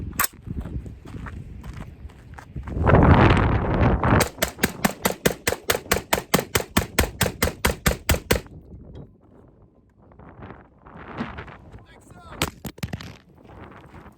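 Rapid gunfire from an AR-15 short barrel rifle emptying a full magazine of 223/5.56 ammo, about twenty loud, evenly spaced shots in a steady burst, following some handling noise and then fading into quieter rustling.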